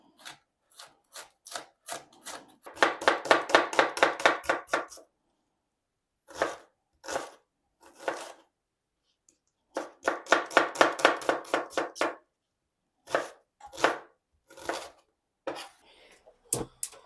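Vegetables being chopped for a bean stew with smoked ham hock, crisp knife strikes on a board coming in bursts of rapid rhythmic cuts separated by slower single chops and short pauses, close and clear.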